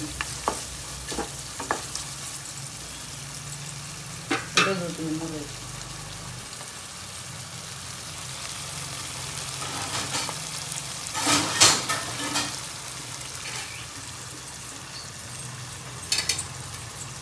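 Chilli chicken with onions and tomatoes fries in a pan, a soft continuous sizzle with occasional louder stirring clatters, while a voice speaks briefly now and then.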